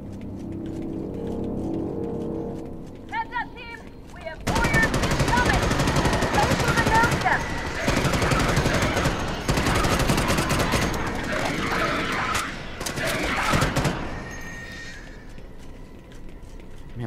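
Sustained automatic machine gun fire in the sci-fi shooter Starship Troopers Extermination, a long loud rattling stream of rapid shots with brief breaks, preceded by quieter mechanical clicks and background noise.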